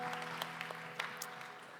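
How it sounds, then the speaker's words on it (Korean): A church youth congregation applauds during a Sunday worship service, a quiet, even ripple of many hands clapping with a few sharper claps standing out over a sustained musical drone underneath. "박수로 서로의 삶을 응원하며 축복합니다."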